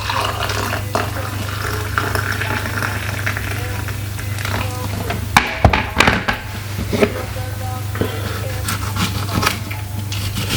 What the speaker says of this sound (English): I'll just fill my cup.